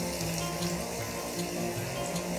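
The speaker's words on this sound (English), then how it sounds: "So I've got a kadai in which I've got some oil heating up. Into the oil will go the onions." Finely chopped onions frying in hot oil in a kadai, a steady dense sizzle and crackle that holds evenly throughout without pause, with no talk.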